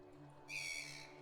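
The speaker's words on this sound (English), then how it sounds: "The seagull looks hostile and stubborn." A seagull cry from the video game Endless Fables 2: Frozen Path, a brief bright whistling call that rises over a quiet background hum and fades after about half a second.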